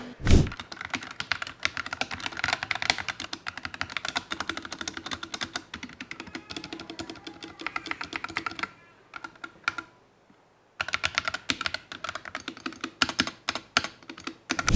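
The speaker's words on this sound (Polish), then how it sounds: "posłuchajcie sobie, jak klika ta klawiatura." Rapid typing up close on a Redragon magnetic-switch keyboard, a dense stream of clicky keystrokes that stops for about two seconds, then resumes at the same brisk pace.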